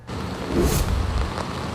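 Outdoor rain falling at a park during stormy weather, a steady close hiss of drops that swells briefly partway through, loud and continuous.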